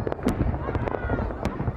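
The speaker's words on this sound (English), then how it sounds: "An extravagance of fireworks entertains the chosen few." Fireworks for the great leader's birthday celebration in Pyongyang crackle and pop in quick, bright bursts at moderate distance, a scattered run of sharp reports over a murmuring background.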